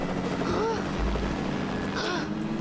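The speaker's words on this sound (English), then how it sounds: "Now a freaking plane mission." Aircraft engine drones steadily in a Lego Batman plane mission video game, a continuous propeller-like whir with faint whooshes passing through.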